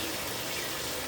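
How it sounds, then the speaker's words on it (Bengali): Hot water poured into a pan of green jackfruit curry (echor torkari) after the spices are fried, a brief, steady, faint rushing gush with no talk. "এবার গরম জল চলে যাবে।"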